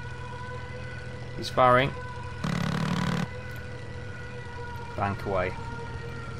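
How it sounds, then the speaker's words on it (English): Sirens in the Cliffs of Dover flight combat game, a steady droning wail running under the whole stretch while someone talks briefly over it and two rising engine or siren sweeps pass. "they should have switched their sirens off by now. They shouldn't still be going."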